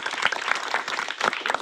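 Applause and clapping from a crowd at a Haryana drivers' welfare union gathering, a steady dense patter of many hands lasting briefly, moderately loud with no talk over it.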